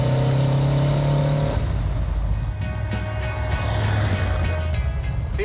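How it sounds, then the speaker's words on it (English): A car pulls hard in third gear from about 45 mph, its engine note droning loud and close and rising in pitch as it accelerates, with road and wind noise building underneath. "This is a 3rd gear pull."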